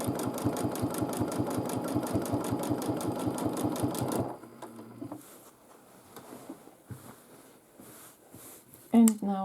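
A domestic sewing machine quilting a large quilt runs in a fast, even stitching rhythm for about four seconds, then stops, leaving quiet fabric handling and faint shuffling with a brief louder knock near the end.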